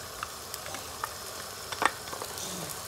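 Chopped dry onion sizzles in hot oil with diced beef for Turkish tas kebab, a steady soft frying hiss broken by occasional pops and crackles.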